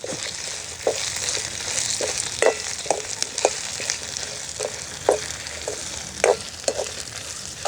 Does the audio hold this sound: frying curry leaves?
yes